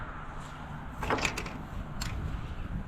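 Barn doors are swung open during morning farm chores, with a couple of short knocks and scraping creaks over steady outdoor background noise.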